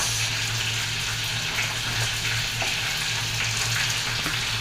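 Chicken pieces fry in a pan with a loud, steady sizzle and bubbling oil, close up, over a low constant hum, with no voices.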